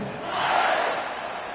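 Stadium crowd roar in a Texas online dynasty football video game at a kickoff after a touchdown, a steady broad cheer swelling slightly in the middle and holding throughout.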